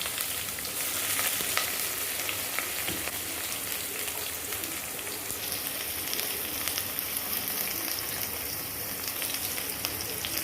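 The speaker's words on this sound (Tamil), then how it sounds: "வெங்காயம் நல்லா வதங்கணும் ஃப்ரெண்ட்ஸ் நல்லா வதங்கட்டும் ஃப்ரெண்ட்ஸ்" A steady, dense sizzle of onions frying in a pan for chicken biryani, continuous and fairly quiet throughout, with no voices.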